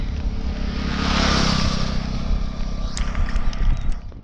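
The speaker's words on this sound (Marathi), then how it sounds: "मागून बाईक आले" A motorcycle comes up from behind: a loud, close engine roar that swells and holds steady, with brief sharper sounds near the end, over wind-buffeted background noise.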